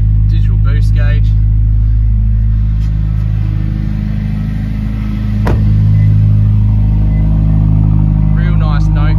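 A Subaru WRX Premium engine and exhaust drone steadily up close, a loud deep hum that dips briefly in the middle. Voices talk over the start and end, and a sharp click lands mid-way.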